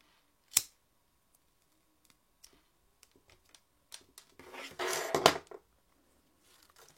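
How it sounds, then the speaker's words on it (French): Scissors snip through thin macrame cord with a few quiet, crisp clicks in a near-silent room, followed by a brief hissing burst. "Je coupe et je brûle."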